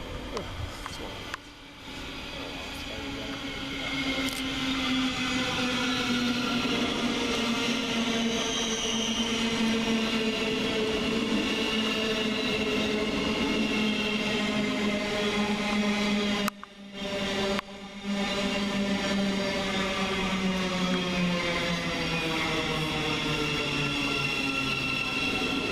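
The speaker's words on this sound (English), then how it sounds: "here comes our train in the form of 700-108" A Govia Thameslink Class 700 electric train pulls into Flitwick station, a loud sustained whine and rumble with shifting motor tones that holds steady for the whole stretch.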